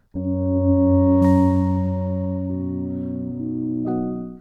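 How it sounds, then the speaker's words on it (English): A sustained wavetable pad from a Waldorf Blofeld synthesizer holds a rich chord that shifts a couple of times, smooth and steady, with a soft sparkle of added tone near the start. "we're going to be designing sort of a pad sound using wavetables"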